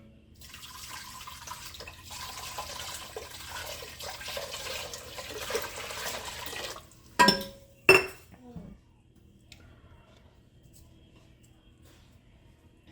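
Tap water runs steadily into a pot in a home kitchen, a soft continuous hiss that stops, followed by a few sharp clinks of pots and dishes and then near quiet.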